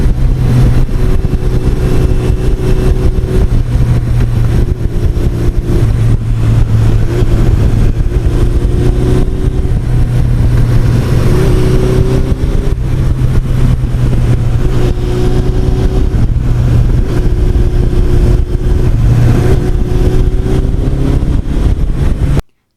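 A 1986 Honda NS250R two-stroke motorcycle on back roads in lower New York, its engine droning loudly and continuously up close, pitch climbing and dropping through repeated gear changes with wind rush throughout.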